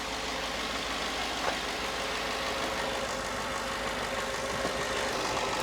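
A pickup truck with 240,000 miles on it idles high with a steady, even engine hum and a faint mechanical rattle, running continuously at moderate volume with no voices.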